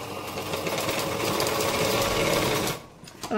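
A sewing machine stitches folded tucks on a blouse, running with a steady, loud, close mechanical whir that halts abruptly near the end, followed by a few brief clicks.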